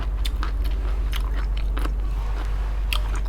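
Crunchy food being bitten and chewed close to the mouth, a string of sharp crisp crunches and bites in an irregular rhythm over a steady low hum, with no talk.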